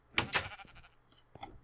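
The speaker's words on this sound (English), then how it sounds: "hello sheep" A Minecraft sheep bleats twice in quick succession, a short wavering baa, followed by faint game clicks and a brief softer sound, quiet overall.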